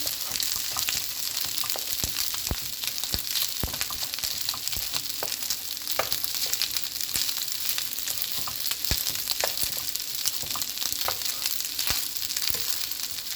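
Oil sizzles steadily in a pan as an egg fries for fried rice, with frequent sharp pops and crackles scattered throughout, close and fairly loud, with no talking.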